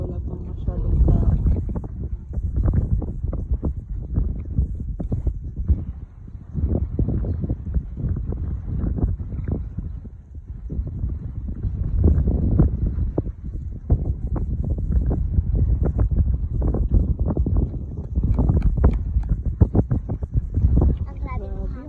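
Strong wind at a seaside cove in Davao City buffets the microphone in heavy, uneven gusts, roaring low and continuous, with a person talking now and then beneath it.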